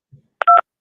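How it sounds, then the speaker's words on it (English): Phone dialing tones: a short low blip followed by a single clear keypad beep, brief and isolated against silence. "Mr. Williams, I'm dialing the number."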